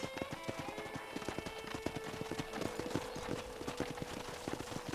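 Horse hooves clip-clop in a quick, steady rhythm over a hard surface in the video game Red Dead Redemption, faint and continuous, with no voices over them.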